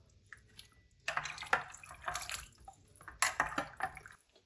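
Cauliflower pieces rinsed in a strainer under a running kitchen tap, with bursts of splashing and dripping water that start and stop as the florets are moved around, close and fairly quiet.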